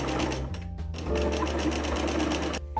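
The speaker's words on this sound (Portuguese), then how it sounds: "Costuro com calma, sem pressa" Close and loud, a sewing machine runs a straight seam with normal tension on a fringed blouse made from an old tank top, humming steadily almost throughout with only brief dips in its motor whir.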